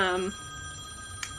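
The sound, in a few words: mobile phone ringing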